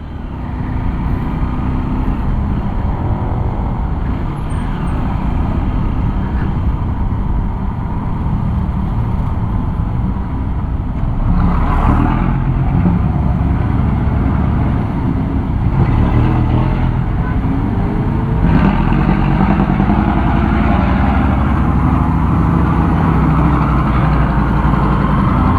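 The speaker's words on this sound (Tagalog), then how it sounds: "Ang daming motor dito, dami sasakyan eh." Busy city road traffic in Manila with many motorcycles and cars, a loud, steady low rumble of idling and moving engines close by throughout, with no talk.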